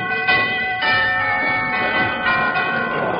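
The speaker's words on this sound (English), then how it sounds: "I'll ring the doorbell." A doorbell rings with sustained, harmonic tones, struck several times in a steady rhythm and ringing on between strikes, close and fairly loud.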